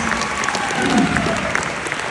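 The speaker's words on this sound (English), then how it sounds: "Let's give a round of applause for Dan Middleman." A live audience applauds at a martial arts keynote event, a dense steady wash of many hands clapping together at full strength from start to finish, with faint crowd murmur mixed underneath.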